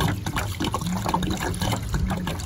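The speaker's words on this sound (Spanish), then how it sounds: "Le vamos a echar un poquito de agua." A little water poured into a pot of beef birria, a steady close trickling and filling sound with soft splashes running evenly throughout.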